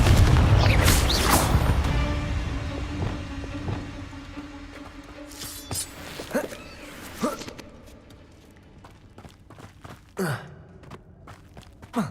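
A Confringo blasting spell in the video game Hogwarts Legacy detonates with a loud explosive burst at the start, then decays into scattered booms, swishes and impacts that grow fainter and sparser.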